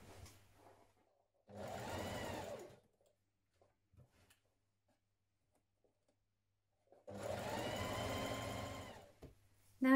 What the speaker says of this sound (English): So we're going to stitch this seam along the sleeve, reinforce at the underarm, stitch to this corner.